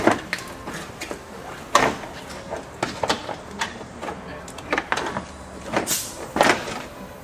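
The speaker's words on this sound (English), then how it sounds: "Now you just pull the cover off." A plastic timing belt cover is worked loose and pulled off a Mitsubishi engine, making a close run of irregular clicks, knocks and rattling clunks with short pauses between them.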